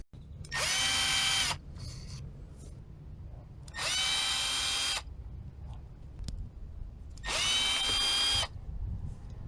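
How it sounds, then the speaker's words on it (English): A power tool whirs in three separate bursts of about a second each, undoing the Torx screws on a Peugeot 306 wiper motor. Faint workshop handling noises fill the pauses between bursts. "So let's remove those 3 screws."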